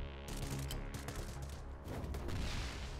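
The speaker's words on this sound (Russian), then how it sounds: "Вот здесь гранатку мы сейчас используем." A grenade blast in the mobile game City of Outlaws comes through as a dense, loud burst of rumbling booms and crackling gunfire-like bangs lasting a few seconds, with no talk over it.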